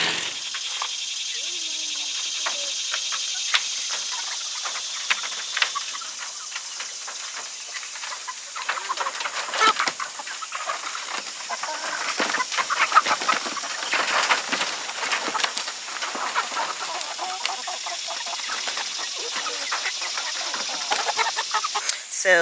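Free-range backyard chickens cluck and chirp steadily in a low-maintenance outdoor setup, a constant busy layer of fowl calls with crickets or insects humming beneath.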